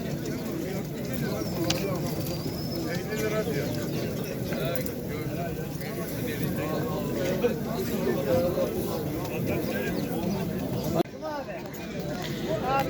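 Pigeons coo and flutter amid the crowd at the Edirnekapı pigeon market, a steady busy bed of bird sounds under constant nearby chatter and people talking.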